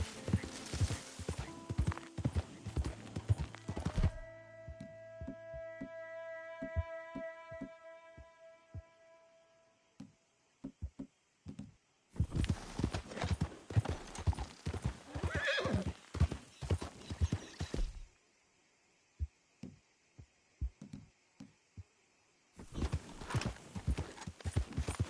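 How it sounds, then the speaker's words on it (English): Hooves clip-clop in an even rhythm, close and clear, stopping and starting in bursts with quiet stretches between. "that's one nice-looking horse you got there"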